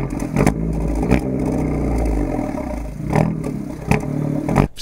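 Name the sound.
sports car exhaust revving while accelerating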